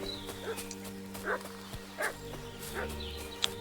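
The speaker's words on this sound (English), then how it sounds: "What's that dog making such a fuss about?" A dog barks in short, repeated bursts at a moderate distance in a medieval village setting in the video game Kingdom Come Deliverance 2, over a steady ambient hum.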